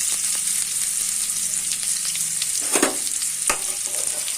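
Onions sizzle and fry in hot oil for a chukka kura tomato curry, with steady bright crackle and a few louder scraping stirs of the spoon through the pan near the end.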